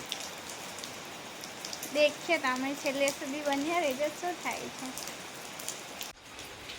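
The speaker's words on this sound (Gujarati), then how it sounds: "તો એક બાજુ વરસાદ પડતો હોય" Steady rain pattering on a surface, with someone speaking over it in the middle before the talk fades back to just the rain.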